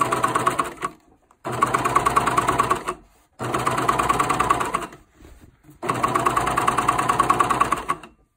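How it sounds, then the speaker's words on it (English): Coverstitch sewing machine sewing a side seam, running loud and close in four steady bursts of fast, even whirring stitches with short silent gaps between them. "I'm going to make sure that this far needle sets right and cover stitch right along that edge."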